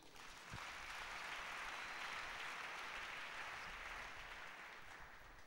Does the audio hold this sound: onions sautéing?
no